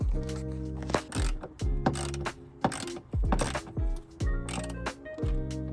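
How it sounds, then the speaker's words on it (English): A ratchet tightens a bolt during a battery change on a 955-generation Porsche Cayenne, giving several bursts of close metallic clicking with clinks between them and no talk. "And now we can bolt it back up."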